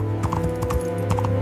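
Horse hooves clip-clop at a steady walking rhythm on a forest path, laid over a constant musical drone for a storytelling scene, with no talking.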